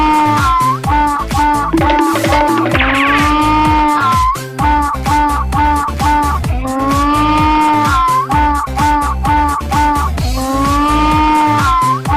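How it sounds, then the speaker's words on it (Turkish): Loud, repeated donkey braying from the video game Metin2 in a rhythmic pattern, harsh and tonal, dominating the clip with no talking. "eşek anırıyor"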